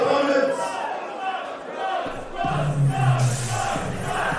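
Wrestling crowd at the Metro during a Pro Wrestling Australia Colosseum event, a roaring, swelling cheer with shouted voices and chants, while a commentator talks over the din.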